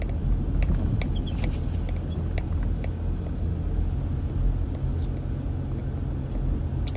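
A car on treaded tires climbs a snowy hill, its engine a steady low rumble close by with tire noise and faint crunching and ticks over the top, continuous throughout.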